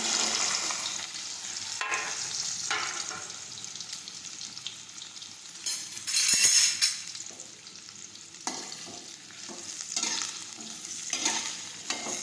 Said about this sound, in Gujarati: હવે આ રીતે સાતળી લઈશું.